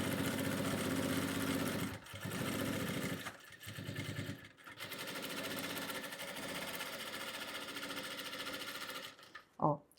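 Sewing machine running in steady bursts while stitching the fabric lining of a water bottle holder, loud and close, with brief pauses between runs and a short sharp clack at the end.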